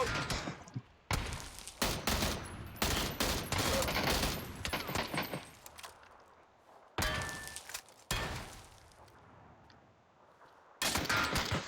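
Bursts of rapid gunfire from the battle royale game PUBG, several loud volleys and scattered shots spread across the stretch with brief quiet gaps, close and harsh.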